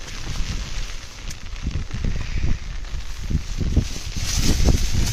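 Heavy rain at Panshet Dam pours in a dense, loud hiss with scattered low thuds and pattering, steady throughout with no voices.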